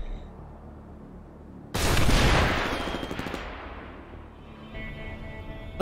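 Sustained burst of gunfire aimed at a tank in the Wasteland 1 Remastered video game, a loud dense volley starting abruptly and rattling for about two seconds before tapering into a quieter game ambience.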